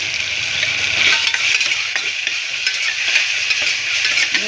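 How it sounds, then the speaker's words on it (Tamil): Ginger garlic paste sautéing in a pan for a chicken and kohlrabi gravy, a steady close sizzle with scraping stirs running throughout, no talk. "இஞ்சி பூண்டு பேஸ்ட்டு போட்டுக்கணும். ஒரு வதங்கணும்."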